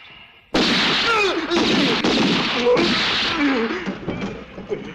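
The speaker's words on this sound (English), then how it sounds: "Hey, that's gunshots." A dense burst of gunfire erupts suddenly after a quiet moment in a 1968 Western film, with overlapping shots and commotion continuing loudly, and voices shouting faintly beneath the clatter.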